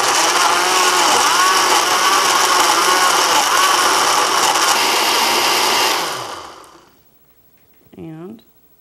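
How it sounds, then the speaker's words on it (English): A blender purees jalapeño peppers with about three-quarters of a cup of vinegar, a loud steady whirring motor that runs for about six seconds, winds down and stops, followed by a brief spoken voice. "And now we're going to puree it."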